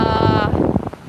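Steady gusting wind roars across the microphone on Copacabana beach, broad and rushing, with a brief tonal hum early on that fades as the blustery noise continues.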